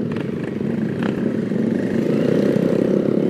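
Small motorcycles with loud exhausts, such as a Kawasaki Z125 Pro, KSR 110 and Honda Monkey, ride close by with a continuous rough, throbbing engine drone that builds slightly.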